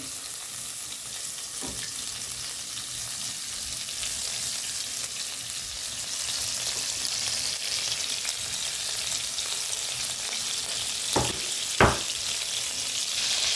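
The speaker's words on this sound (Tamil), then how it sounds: "பட்டர் கொஞ்சம் உருகி வரட்டும்." Butter melts in a pan for rava laddu, giving a soft, steady sizzle and hiss that runs throughout, with a couple of brief sharp clinks from a utensil near the end and no talking.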